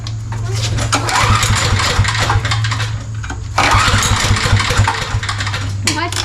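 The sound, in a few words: diesel engine starting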